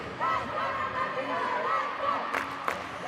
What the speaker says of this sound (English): the Namibian crowd is trying to bring their team back into the game